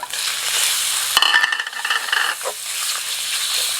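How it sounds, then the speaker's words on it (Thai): Curry paste sizzles steadily in a hot wok while a spatula scrapes and stirs, with a few sharper clinks of metal against the pan. "ใส่แล้วก็ผัดเลย ก็จะผัดให้น้ำพริกแกงเนี่ยหอมเลยนะครับ"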